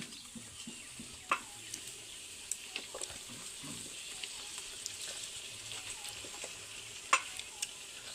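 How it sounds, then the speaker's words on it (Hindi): Chicken frying in a pan over a gas flame in a village kitchen, a steady close sizzle with occasional scrapes and clacks of stirring, no voices. "तो ये अभी चिकन डाल रहा हूँ मैं, चिकन जाएगा।"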